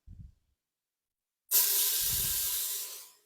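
Chopped onion hitting a hot pot for a potato soup, a sudden loud sizzle that starts abruptly and holds steady as a bright hiss for well over a second before tapering off; brief low thumps come before it.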